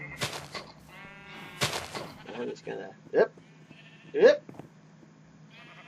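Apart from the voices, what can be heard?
sheep bleating at a spawner in a video game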